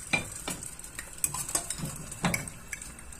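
Eggs fry in bacon oil in a pan, a soft sizzle broken by clinks and scrapes of a utensil against the pan, with several sharp knocks spread irregularly through the stretch, close and moderately loud with no voices.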